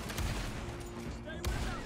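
Gunfire in the Red Dead Redemption 2 video game, two sharp shots spaced about a second apart over a steady background hum.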